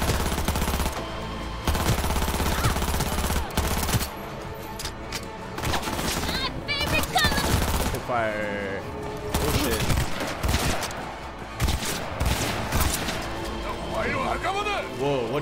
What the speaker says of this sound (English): Let's try out this submachine gun here.